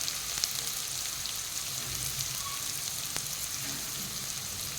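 Finely chopped onion fries with mustard seeds and cumin in hot oil, a steady, even sizzle heard up close with a few faint pops and no voices.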